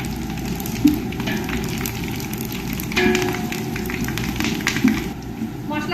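Whole spices, starting with bay leaf, hit hot oil for a vegetable biryani, giving a steady crackling sizzle with a few sharper pops, close and fairly loud throughout.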